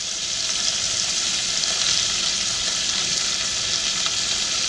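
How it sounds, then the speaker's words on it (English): Smoked ham hocks sizzle steadily in a hot pan, a loud, continuous frying hiss that holds even throughout with no voices over it. "Did you hear that sizzle?"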